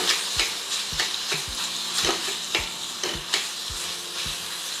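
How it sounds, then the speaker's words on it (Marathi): Dry fruits and banana roasting in ghee for prasad sheera, a constant close sizzle punctuated by a steady series of sharp spoon taps against the pan, about two per second, no voices. "हे छान परतून घेतले आपण तुपामध्ये"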